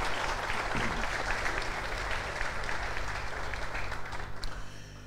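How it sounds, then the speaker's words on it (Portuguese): Crowd applause at a Brazilian football club's 2023 squad presentation, a dense round of clapping that holds steady then thins out toward the end. "Uma salva de palmas."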